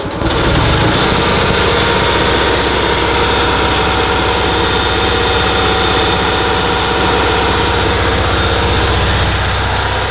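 A diesel-style 1800 RPM generator engine cranks briefly and catches, then runs at a steady loud drone with a constant mechanical hum and no talking.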